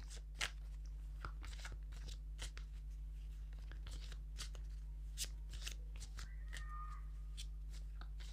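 A deck of playing cards is shuffled up close: a quiet series of crisp snaps and riffling bursts over a steady low hum, with no voices.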